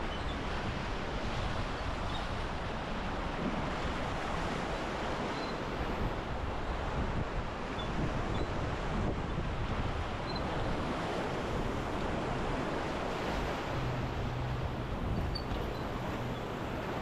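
Rapids on the Middle Fork river roar in a steady, dense wash of rushing water, loud and unbroken throughout, heard from a sweep boat running the river at low water.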